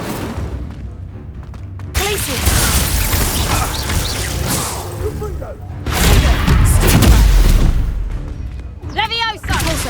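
A fiery spell blasts out during a busy Hogwarts Legacy duel, loud whooshing bursts and booms that rise and fall with the combat, over background music and voices and ending in bright magical chimes.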